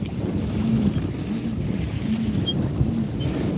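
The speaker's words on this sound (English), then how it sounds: "I am pedaling. And I got both of them behind me on a kayak, towing both of them." A pedal kayak towing two other kayaks through open water, with a steady low wash of water and hull noise under gusting wind on the microphone, continuous and fairly close, with no talking.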